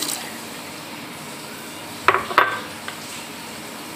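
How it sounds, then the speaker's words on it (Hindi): Chickpeas going into a pot of egg and chicken curry and being stirred in: a couple of close clattering scrapes and splashy stirs midway, with a faint later clink, over a quiet low background. "अब हम इसके अंदर चने शामिल करेंगे"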